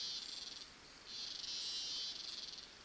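Loud, steady cricket chirping inside a video game room, a continuous high trilling drone that dips briefly then swells again, with no voices.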